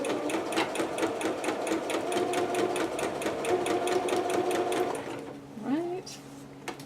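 A sewing machine stitches a seam on a Pikachu dress in a fast, even run of close mechanical clatter, then stops, followed by a quiet whir and a brief voice.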